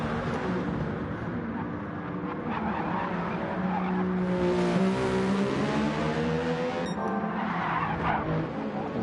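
In a GT1 sim racing game, a race car's tyres squeal through a long slide at the exit of turn one while the engine drones and revs. The squeal swells in the middle and is heard close and loud.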